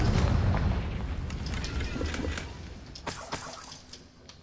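Explosive Confringo spell blasts in Hogwarts Legacy, a heavy rolling boom that fades over several seconds, followed by a few sharper cracks and pops, loud and close.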